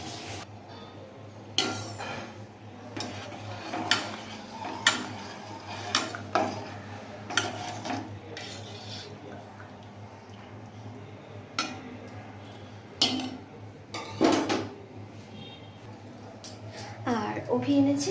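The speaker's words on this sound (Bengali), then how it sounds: "চাল ধুয়ে এবার হাঁড়িতে দিয়ে দেবো।" Rice is washed and tipped into a cooking pot, with scattered clinks, taps and splashy knocks of grains, water and metal repeating irregularly at close range over a faint steady hum.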